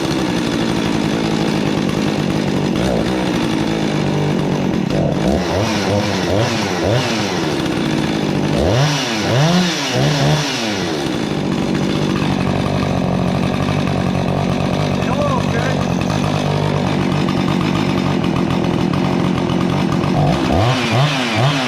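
A Husqvarna 359xp chainsaw engine runs steadily at high idle, a loud, continuous buzzing drone that holds for the whole stretch, with a few brief revving swells partway through and near the end.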